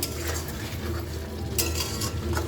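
Chicken curry with yogurt stirred in a pan, a steady frying sizzle under intermittent scraping of a spoon against the metal, close and continuous.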